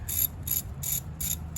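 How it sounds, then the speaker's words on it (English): Ratchet wrench tightening valve cover screws on a 2006+ Mitsubishi Eclipse 2.4L engine, four quick bursts of close, crisp clicking evenly spaced over a low background hum, with no talking. "Let's finish getting these screws down."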